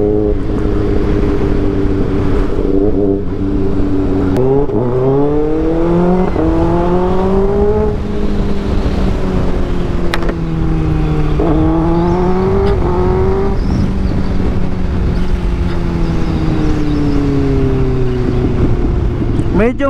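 A 2024 Kawasaki ZX6R sport bike on a test ride, its high-revving inline engine whining loud and close, rising through gears with repeated upshift dips and sustained acceleration pulls.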